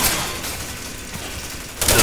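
Rapid gunfire bursts in the video game Resident Evil 6, loud crackling shots at the start and again near the end, with a quieter stretch between and no voices.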